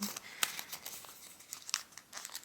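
Paper folded and creased for an origami chick, soft close crinkles and sharp little crackles scattered irregularly over a couple of seconds, quiet and with no voices.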